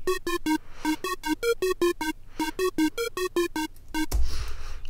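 A trap synth pattern from the Serum synthesizer plays as a plucky, bright rhythmic sequence of short stabbed notes with brief gaps. A noisy burst with low rumble closes it.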